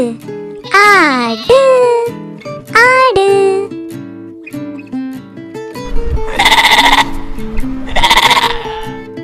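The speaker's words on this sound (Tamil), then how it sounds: "இதுதான் செம்மறியாடு." Farm sheep bleating in several loud, wavering calls up close, with a chorus of overlapping bleats from a flock toward the end, set over cheerful background music.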